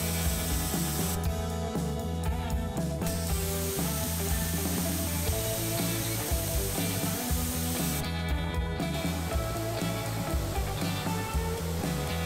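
Continuous loud spraying hiss from a Wholesun electric pressure washer through a high pressure nozzle at about 1000 PSI, a steady broadband rush with a low motor hum underneath, running throughout.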